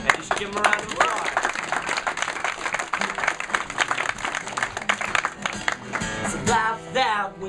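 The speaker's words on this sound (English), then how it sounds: "you should give them a round of applause" Concert audience at Fort Ryland claps and cheers for the band, a crackling run of many hands at moderate distance, mixed with crowd noise and voices throughout about seven seconds.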